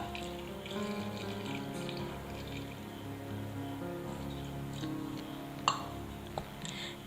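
Water runs and splashes steadily into a clay pot, with a couple of sharp clinks near the end.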